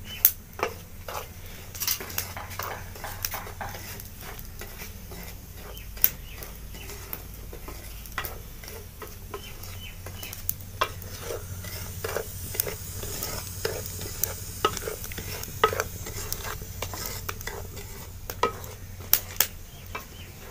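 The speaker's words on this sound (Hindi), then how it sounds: "एक हमने पैन लिया है जिसमें हम सूजी को रोस्ट करेंगे।" Dry semolina (suji) roasting in a pan over a village-style fire, one cup of it, scraped and stirred steadily with a spoon; soft continuous sizzle and frequent light scraping clicks at moderate, fairly quiet level throughout, no talking.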